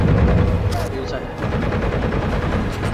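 Dense automatic gunfire from a Halo 4 PC firefight rattles loudly and continuously in rapid bursts, with a player talking over the shooting.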